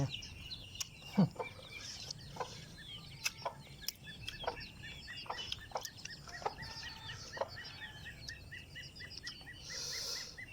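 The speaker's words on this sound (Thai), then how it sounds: "ไก่" Chickens cluck and call at irregular intervals in a rural outdoor setting, with sharp short notes scattered over a steady background and faint voices now and then.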